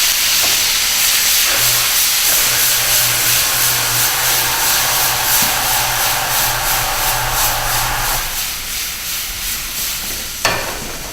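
Garlic and capers sizzle hard in hot oil in a pan, a loud, close, hissing crackle that holds steady and slowly eases off. A sharp clink sounds near the end.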